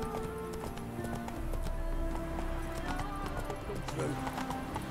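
Roach the horse gallops in The Witcher 3, steady clip-clop hoofbeats running throughout over game music, with a brief whinny and a voice speaking over it.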